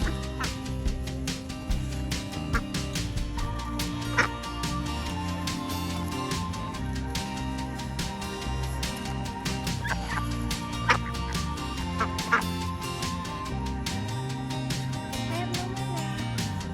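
Peking ducks at a nature sanctuary, a steady chorus of quacking and fowl calls with a few sharper squawks standing out, heard fairly close throughout.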